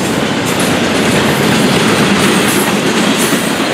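A Florida East Coast Railway freight train, number 202, rolls past close by, a loud steady rumble of wheels and railcars with rhythmic clickety-clack joints and faint wheel squeal throughout, with no voices.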